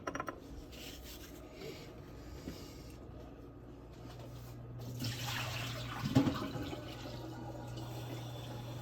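A kitchen tap runs softly at room temperature, a low steady rushing of water with faint rubbing and scraping sounds over it, near but quiet and with no talking.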